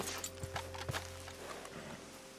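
Horse hooves clip-clop at a walking pace in the Red Dead Redemption 2 video game, a few distinct close thuds over a steady low hum of game ambience.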